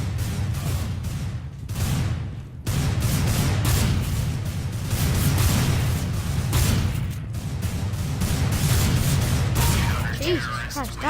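A grenade explodes in the video game CS:GO amid repeated booming blasts and gunfire, loud and close, with a person talking over the commotion.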